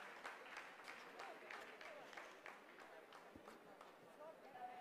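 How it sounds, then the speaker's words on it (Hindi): Scientists in mission control applaud after the descent phase of the Chandrayaan-3 lunar soft landing, a sustained, fairly distant patter of many hands beneath a voice talking throughout. "आप इस तालियों के गड़गड़ाहट को सुन सकते हैं"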